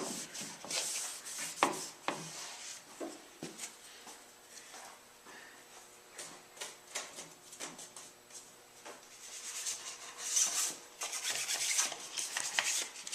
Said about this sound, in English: This is 600 grit sandpaper